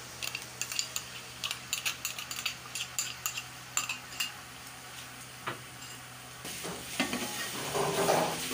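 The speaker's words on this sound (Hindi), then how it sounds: "ये हमने गरम मसाला जो पीसा हुआ था वो भी हमें घी में फ्राई करना है।" Ground garam masala fries in ghee, with a spoon scraping and clicking against the pot in quick rhythmic strokes over a quiet sizzle, before the sizzle swells louder at the end.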